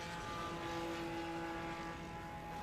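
A STOL competition airplane takes off at the Appalachian Mountain short takeoff and landing event, its propeller engine giving a steady, fairly loud droning buzz throughout the brief moment.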